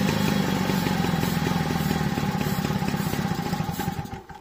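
An old moped engine idles in a garage with an air leak on the ignition side, producing a rapid, uneven putter with clattery mid-range knocking that stays fairly loud and close, then tapers off at the end.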